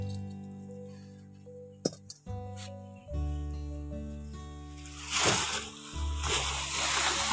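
Water is poured into a cooking pot for boiling raw mangoes, a rushing splash that builds over the last couple of seconds beneath steady background music, after a few small knocks and clinks.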